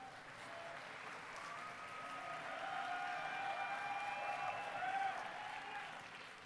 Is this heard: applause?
yes